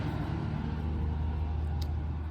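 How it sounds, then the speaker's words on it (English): Steady low road traffic rumble drifting in through open doors and windows, a continuous distant wash of passing cars with no distinct events. "You hear some traffic out there."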